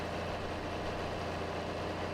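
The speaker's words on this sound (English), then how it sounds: "This thing shifts down and just digs." A heavy farm machine engine in Farming Simulator 22 revs under load, a dense, continuous low rumbling drone that stays loud and even throughout with no talking.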